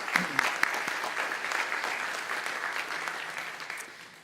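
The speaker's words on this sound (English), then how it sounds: "Give him a round of applause." An audience at an evening discussion event applauds warmly, a dense steady patter of many hands that starts with a few sharp claps and carries on evenly throughout.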